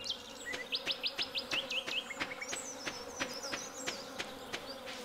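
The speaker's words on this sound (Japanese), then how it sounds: "だからなんでハエの音がしてるんだ" Buzzing fly sounds in the Stardew Valley video game repeat steadily in short rhythmic pulses over quiet game ambience, with no talking.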